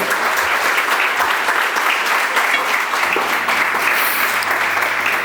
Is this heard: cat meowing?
no